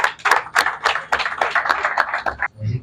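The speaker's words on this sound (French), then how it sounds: "on va donner un applaudissement, s'il vous plaît" Applause at a press conference for a concert, with a burst of hand claps from a small crowd that fades out after a few seconds.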